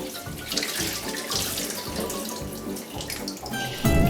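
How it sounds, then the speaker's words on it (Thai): A whole raw chicken being washed under a running kitchen tap, a steady loud gush of water with shifting splashes as the bird is turned and rinsed inside. "เดี๋ยวเอาไป ล้างน้ำเปล่า เราต้องล้างในท้องให้สะอาดสะอาด"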